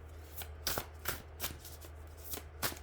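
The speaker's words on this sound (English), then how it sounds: "I'm just finishing shuffling." Tarot cards riffle and snap in a steady shuffle, with several sharp bursts of fluttering clicks over a low background hum.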